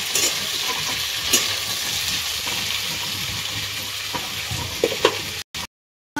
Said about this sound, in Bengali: ভেন্ডি আর আলু দুটোই ভাজা ভাজা হয়ে গেছে